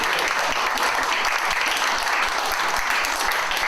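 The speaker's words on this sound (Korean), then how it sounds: "다시 한번 박수" A lecture audience at a Yongsan Forum talk on North Korea and unification gives sustained, dense applause that holds steady and fills the room for the whole stretch, with no voices on top.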